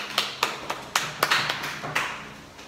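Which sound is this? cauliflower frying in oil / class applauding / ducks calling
class applauding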